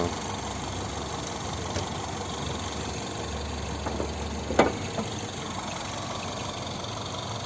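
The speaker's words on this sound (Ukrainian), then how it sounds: "Ось робота двигуна." A 2011 Peugeot 5008 with a 1.6-litre petrol engine and automatic gearbox idles with a steady low hum, broken by a single faint knock midway through.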